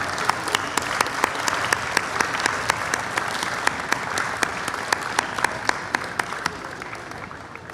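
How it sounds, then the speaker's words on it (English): Sustained applause from a large festival audience at an award presentation, a dense steady wash of many hands with a few sharper claps standing out, loud and continuous throughout. "Let's give a big round of applause for Miss Jacqueline Polk-Lyons"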